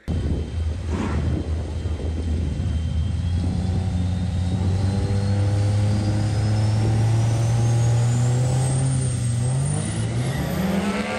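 A truck makes a drag racing pass at the track, its engine droning loud and steady, then rising in pitch as it accelerates down the strip.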